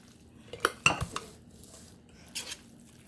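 A few scraping clinks of a utensil against a pan while potato salad with mustard is stirred, close and fairly quiet, with short bursts then a pause and one more scrape.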